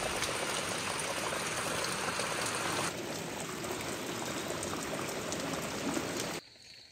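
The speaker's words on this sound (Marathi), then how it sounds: "मस्त पडतोय पाऊस सकाळपासून." Rain falls steadily in the Konkan countryside near a house with a wood-burning stove, a dense even hiss of drops that continues unbroken, then drops away sharply at the very end.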